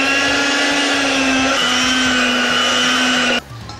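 A stand mixer kneads bread dough with butter, its motor whirring loud and steady with a constant hum, then cutting off abruptly near the end.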